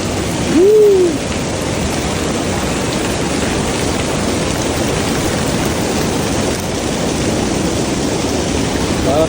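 Constant broadband rush of cascading water at the Symphony Streams waterfall in Universal Studios Singapore, steady and enveloping, with a brief whoop from a voice near the start.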